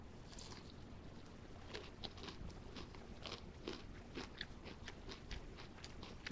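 Quiet crunchy bites and chewing on a fried chicken thigh, a series of crisp crackles close to the mouth against a soft background hiss.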